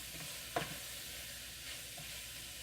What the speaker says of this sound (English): now let's just stir all that in there